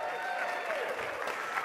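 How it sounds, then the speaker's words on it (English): Audience clapping at a church service, a brief, moderately quiet patter of many hands with a thin tonal sound fading early on. "Let's give him a round of applause one more time."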